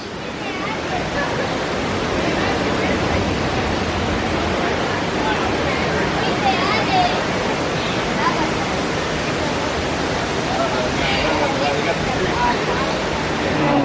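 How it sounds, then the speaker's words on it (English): Waterfalls cascading over rock work at Disney's Animal Kingdom produce a steady, loud broadband rush that fills the whole stretch without letup, with faint voices of people drifting through underneath. "All the waterfalls."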